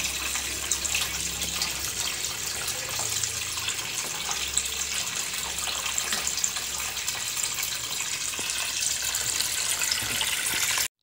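Water pours steadily into an aquarium during a water change, a continuous splashing gush like a running tap that holds evenly for the whole stretch, fairly close with no talking.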